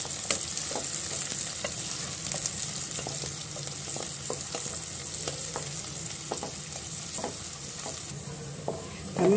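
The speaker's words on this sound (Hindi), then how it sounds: "डाल के चलाते हुए अच्छे से फ्राई कर लेना है।" Three sliced onions and a bay leaf fry in hot oil with a steady, bright sizzle, while a utensil stirs through them, adding regular scraping clicks close by.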